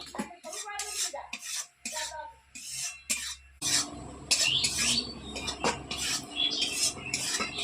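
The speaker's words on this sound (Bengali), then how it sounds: "এবার কড়াইটা বসিয়ে দেবো এই মশলাটা একটু নাড়াতাড়া করে দেবো সব কিছু মিশিয়ে দিয়ে" Spice paste being stirred in a wok (kadai) for a vegetarian whole-brinjal masala gives close, irregular metal scrapes and clanks from the spatula, broken by short pauses.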